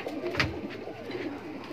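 Pigeons of Allahabadi Khaure, Fulsare Kaldume and Safed breeds at a pigeon loft give soft, low cooing with a brief louder note near the start, close and faint against light background noise.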